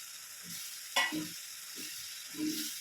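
A spatula stirs and mixes seema chakka (breadfruit) thoran with salt, curry leaves and crushed coconut paste in a pan, giving a few soft scraping strokes with one sharper knock, near and fairly quiet, no talk.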